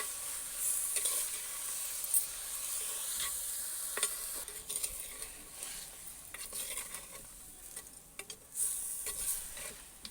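Country chicken with chickpeas fries in a pan, a continuous bright sizzle broken by frequent scraping strokes of a spoon turning the pieces over.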